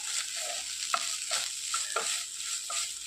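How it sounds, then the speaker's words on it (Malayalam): Egg chammanthi with curry leaves is stir-fried in a pan, a soft, steady sizzle punctuated by rhythmic spatula scrapes and stirs every half second or so, with no talking. "ഇതെല്ലാം കൂടെ നന്നായിട്ട് ഒന്നുകൂടെ ചിക്കി ഫ്രൈ ആക്കി എടുക്കാം."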